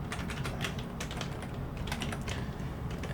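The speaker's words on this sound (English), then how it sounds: "here I'm going to type in IP config" Rapid clicking of keys on a computer keyboard as a short command is typed, steady close-up keystrokes with no voice.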